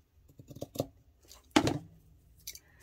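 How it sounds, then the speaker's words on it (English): Scissors trim the edge of a fabric no-sew project bag with a few quiet close snips, then a louder crunching cut and a couple more soft snips. "So now I'm going to trim this off the edge here."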